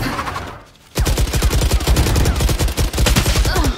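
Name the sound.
Spectre gun firing in a video game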